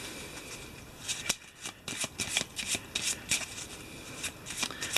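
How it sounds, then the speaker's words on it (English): A deck of Eldritch Horror board game cards is shuffled by hand, giving repeated quick riffling bursts and papery flicks in an uneven rhythm, close and clear with no talking. "Sometimes I wonder how many hours I've spent shuffling the cards in these games"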